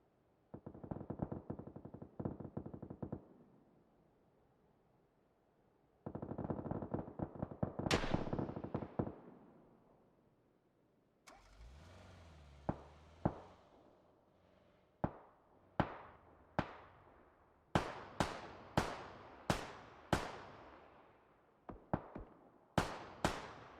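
Gunfire in a PUBG console esports league finals match, played first-person: rapid automatic bursts, then a long run of single sharp shots with ringing tails, some near and some farther off, with no talk.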